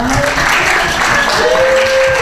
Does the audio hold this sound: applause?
yes